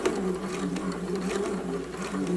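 A sewing machine runs a steady, quiet whirring stitch across fabric while sewing a double pointed dart, with a brief back stitch at the center and no one speaking.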